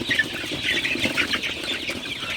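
Sonali super hybrid chickens cluck and chirp softly together in a poultry shed at night, a steady, continuous flock murmur with no one talking.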